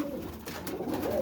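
Roller pigeons of the Plona bloodline coo close by in soft, low, rolling calls that continue through the brief moment, with no voices.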